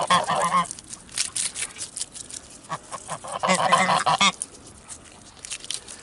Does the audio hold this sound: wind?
no